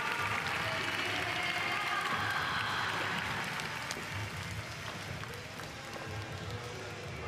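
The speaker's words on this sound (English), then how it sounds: "A hearty round of applause here at Makuhari Messi for Funa" Steady crowd applause fills an arena at an X Games women's street skateboarding competition in Chiba, Japan, a dense continuous clatter of clapping that slowly eases, heard from a distance with faint crowd noise.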